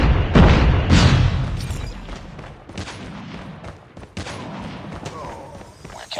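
A flashbang blast and gunfire in the mobile shooter Call of Duty Mobile: a heavy boom and a dense volley of shots open the moment, followed by scattered, fainter bursts and thuds fading into the background.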